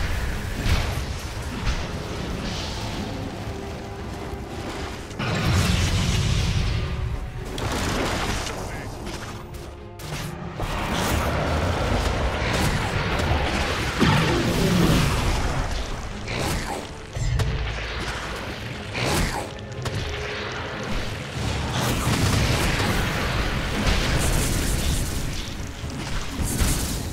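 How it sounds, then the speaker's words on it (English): Heavy booming impacts and crashes pound against Radiant's bottom tower during a Dota 2 match, a dense, continuous barrage of hits and bursts layered with music and game effects. "Radiant's bottom tower is under attack. Bottom tower is falling."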